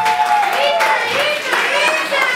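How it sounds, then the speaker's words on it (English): A crowd at a wedding reception gives warm applause for the couple's first dance, a dense steady clapping heard close and loud, with tonal lines from music or voices mixed beneath it. "let's give them a nice, warm round of applause"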